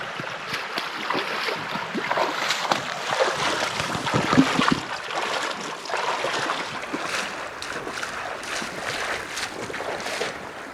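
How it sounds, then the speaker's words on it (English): Water of LaBarge Creek rushing and splashing during a creek crossing in a canyon, a steady broadband hiss heard close with no talking. "This is all LaBarge Creek."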